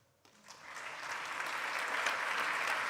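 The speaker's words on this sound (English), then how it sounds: "Warm applause for the art of protecting Bedechka" Applause at a European heritage award ceremony, starting from near quiet and swelling quickly into broad, sustained clapping from the audience that stays loud to the end.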